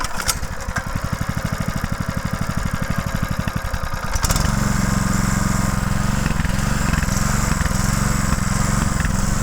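A homemade tractor's small engine, close and loud, first chugs with rapid even firing pulses, then settles into a steady rough idle with a deeper continuous drone. Nobody speaks.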